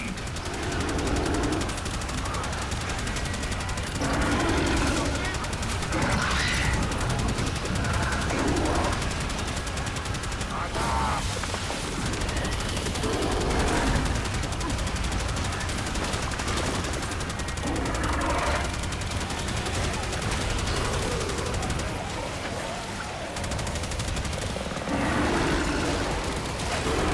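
Sustained rapid weapon fire from an arc gun in a video game boss fight against a demon, a steady dense crackling barrage running loud and continuous throughout with no talk.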